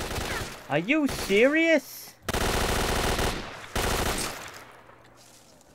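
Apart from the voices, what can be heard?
gunfire from the video game STALKER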